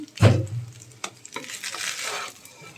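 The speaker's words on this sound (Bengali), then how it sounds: "একটু ভালো করে ভাজা হলে ভেজে নিব ঘিয়ে" Zarda rice is stirred and fried in ghee in a pan, with a loud scraping clatter at the start, then a gentle sizzle and occasional stirring knocks, and no voices.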